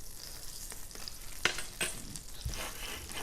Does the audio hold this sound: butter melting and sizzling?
yes